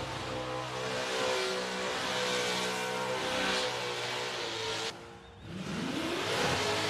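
A Summernats burnout car's engine screams at sustained high RPM, loud and constant, then briefly drops off before climbing back up to a roaring rev.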